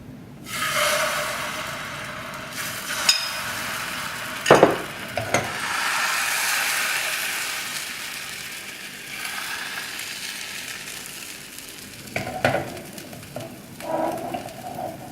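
A thin crepe cooking in a non-stick pan, with a soft sizzle rising and fading and a few sharp clinks and scrapes of a utensil against the pan.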